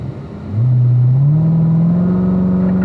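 A car on a racing circuit accelerates hard out of a corner apex, its engine note rising steadily in pitch as it pulls away, loud and close, with no talk over it.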